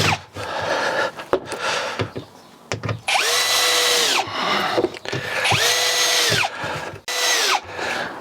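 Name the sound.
power drill driving screws into Keter Denali garden box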